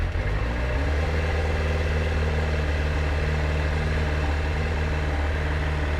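A friend's motorcycle engine runs steadily after being repaired, a loud, close, continuous mechanical drone with a strong low throb and no talk over it.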